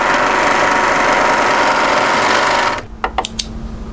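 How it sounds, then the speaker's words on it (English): An overlocker runs steadily, stitching the shoulder seam of a knit jacket with a loud continuous mechanical whir that stops abruptly, followed by a few short clicks. "Just use your overlock to tidy that up in the correct position."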